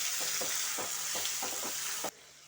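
Tomatoes sizzle steadily in a hot pan while being cooked down for mint chutney, with a bright continuous fry and several rhythmic stirring scrapes; the sizzle cuts off abruptly near the end.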